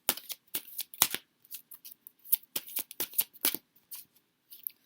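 Tarot cards being shuffled and drawn give off a string of quick, crisp riffling and slapping bursts with short gaps, close and quiet, with no talk.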